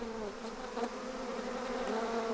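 Killer bees, the aggressive Africanized honeybees, swarm in a continuous, close, fairly loud drone with a steady pitch and slight wavering over its whole length, without any voices.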